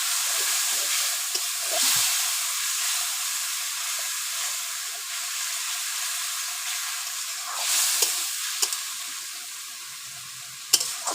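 Spice paste frying in oil for a Bengali fish curry, a steady broad sizzle and hiss with faint stirring scrapes, and a few brief louder bursts as water hits the hot pan.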